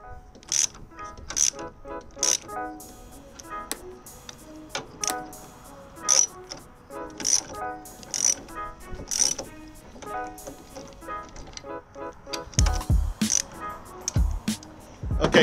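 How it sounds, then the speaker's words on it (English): Coil spring compressor tightened on a coilover suspension strut from an MX5 / MIATA, a series of sharp metallic ratchet clicks at an uneven pace, fairly close, with brief thuds toward the end. "So keep tightening, make sure you're tightening them evenly on both sides."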